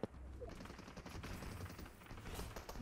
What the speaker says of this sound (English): Oh, lots of shooties.